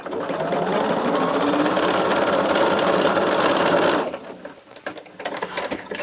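A sewing machine runs steadily and loudly as it stitches fabric for a Christmas gnome, then stops abruptly. Faint room noise and soft speech follow.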